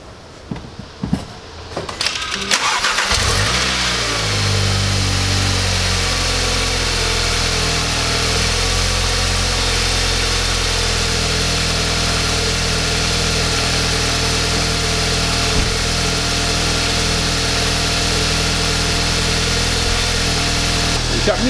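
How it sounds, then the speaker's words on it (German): A 2013-era VW Golf 7 GTI with 366,000 km cold-starts after sitting twelve hours: a brief crank and catch, then a steady, elevated idle hum with a constant rumble, recorded close to the engine. "Erster Kaltstart nach 12 Stunden."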